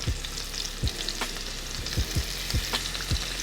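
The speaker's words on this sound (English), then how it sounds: "Take our beautifully seasoned shrimp, right on into that butter." Seasoned shrimp sizzle in melted butter in a pan, a steady crackling fry with small popping spatters and a few low thumps as pieces settle.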